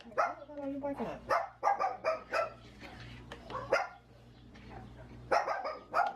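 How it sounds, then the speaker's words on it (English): Close, insistent barking from a dog in a home kitchen: a run of quick yaps and woofs, a brief lull, then another burst of barks near the end. "What are you barking at?"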